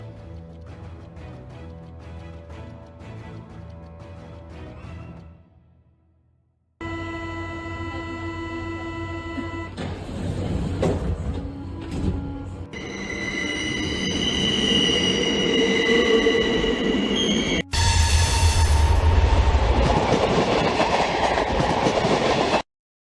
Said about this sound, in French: La navette arriva à la station de Bibliotchak en quelques minutes seulement.